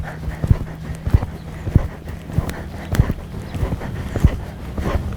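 A horse's hooves beat out a regular canter rhythm on an arena surface during a walk-to-canter transition, with about nine evenly spaced, fairly close thuds and a low steady hum underneath, no talking.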